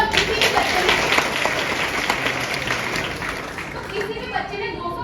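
Audience applause fills a hall during a UPSC interview talk, a loud sustained wash of clapping that fades slightly toward the end, with crowd murmur and some voices underneath.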